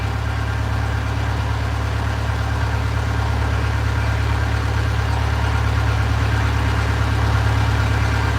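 A boat engine idling with a suspected exhaust leak, a loud, steady low rumble with an even vibration that continues unchanged throughout, with no voices.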